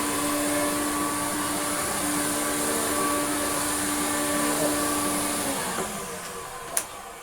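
An Electrolux Twin Turbo Z522 vacuum cleaner runs over carpet with a loud, steady motor whine and airy rush. Near the end the pitch drops as the motor dips, and a single sharp click follows.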